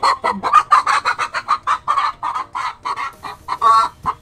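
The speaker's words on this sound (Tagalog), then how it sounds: "Gaputak-putak man yung manok. Putak-putak ang manok" A hen clucks loudly and rapidly in a steady rhythmic series of short calls, close by with no talk.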